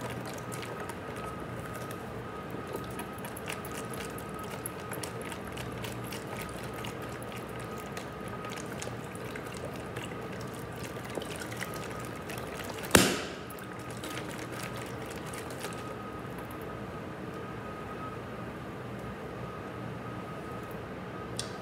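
Inside a capped bottle being swirled, an effervescent tablet fizzes in water with a continuous soft crackle and hiss, broken once midway by a sharp knock or clunk.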